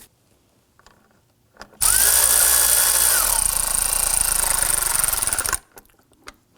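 A power tool snugs bolts down on a 2005-2009 Subaru Legacy 2.5L H4 during a serpentine belt job, one loud continuous whirring burst of about four seconds, with a brief rising whine early on, between quiet stretches.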